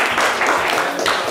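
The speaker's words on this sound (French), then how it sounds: "On va l'applaudir très très fort." Brief, steady applause from a studio audience for a contestant on a French-language talk show, dense clapping lasting just over a second.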